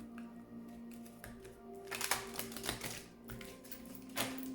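Tarot cards shuffled by hand, a run of quick papery riffles and flicks that builds into denser bursts, close and fairly quiet with no voices.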